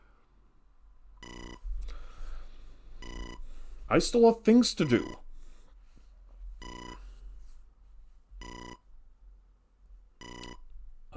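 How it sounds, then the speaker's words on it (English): Telephone in EarthBound Beginnings on the NES, a chiptune ring repeating in short evenly spaced bursts, with someone talking briefly over one ring. "And now the phone starts ringing."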